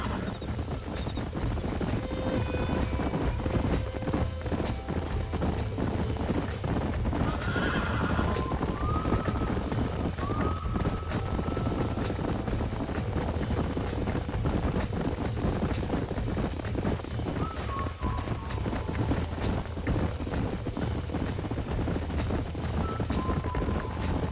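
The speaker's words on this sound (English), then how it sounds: "These are fine horses." Hooves galloping in a rapid, continuous clip-clop for the whole stretch in the video game Red Dead Redemption, with several horses whinnying now and then over the drumming.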